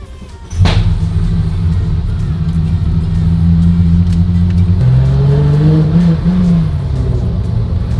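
A car engine starts and holds a steady, elevated idle it can't be brought down from, a loud continuous rumble with a slight rise in pitch partway through.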